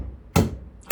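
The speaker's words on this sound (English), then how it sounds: "knock in your gudgeon pin" Gudgeon pin being knocked into a motorbike piston, two sharp solid taps about half a second apart, close and loud over a quiet workshop background.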